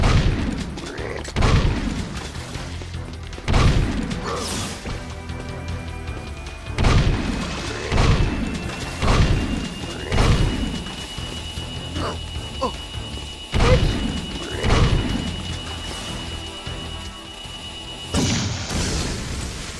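Gunshots and booming explosions in Jak II hit in a steady series of heavy, loud blasts, each with a ringing decay, spaced a second or two apart throughout.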